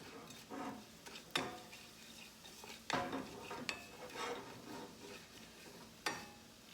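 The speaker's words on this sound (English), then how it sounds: "Put your coriander seed in there. And we're going to toast that just until it becomes fragrant." Coriander seed and red pepper flakes toast in a pan with a faint sizzle, broken by a few sharp clinks of a utensil against the pan. The whole thing stays quiet and close, with no voices.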